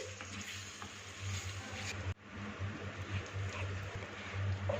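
A spoon stirs cooking chocolate with vanilla essence melting in a pan on low heat, a steady soft bubbling sizzle with scraping movements and a brief clunk midway.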